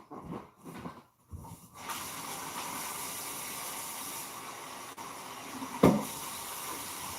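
Water running steadily from a tap, a continuous hiss that starts after a few seconds of faint handling noises, with one brief knock partway through.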